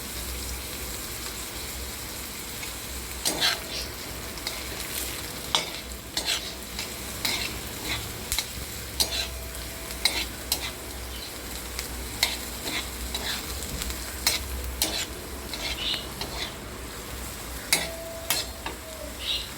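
Green chillies roast and get stirred in a pan in which mung beans were just cooked, a steady soft sizzle with repeated scraping and stirring clicks through the whole stretch, close by and fairly quiet, with no talking.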